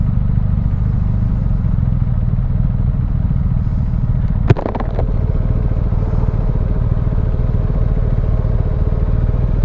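Steady motorcycle engine drone while riding along US 1 toward Key West, loud and continuous with wind rush, broken by a brief sharp clatter midway.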